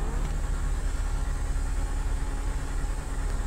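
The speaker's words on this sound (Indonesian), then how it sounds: "gue di sini mau nyobain suara geberan mobil Gentorno ini cuy" The Pegassi Zentorno supercar in GTA 5 runs with a steady, low engine drone, close and even, with no sharp revs rising above the constant hum.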